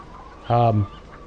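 A single short, nasal cluck from a fattened chicken in the video game Farming Simulator 2015, brief and fairly close, over a quiet background.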